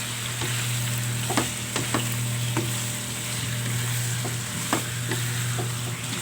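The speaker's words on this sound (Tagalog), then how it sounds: "Gisa lang natin, guys, na medyo mag-brown ng konti" Bite-sized pork pieces sauté in a hot pan for mechado, a steady close sizzle running throughout with several sharp clinks of a spatula scraping and stirring the meat.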